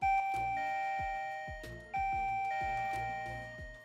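A video doorbell chimes with a steady two-tone ding-dong, played twice in a row, clear and close over low background thumps.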